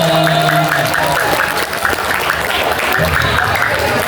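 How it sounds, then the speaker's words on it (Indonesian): An audience at a school Ramadan lecture at an Islamic junior high in Jakarta breaks into loud, sustained applause, a dense wash of clapping with a voice heard over it. "Tepuk tangan dong."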